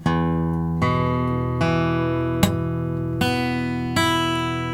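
Acoustic guitar power chord strummed repeatedly with one string lightly touched by a finger to mute it, six ringing strums at a steady pace, each decaying before the next, close and clear with no talking.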